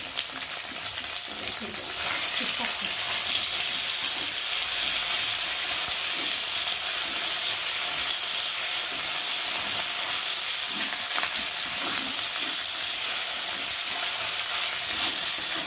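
Spices and prawns fry in hot oil for lau chingri, making a loud, continuous hiss and sizzle that holds steady throughout, with occasional stirring scrapes and a faint voice underneath.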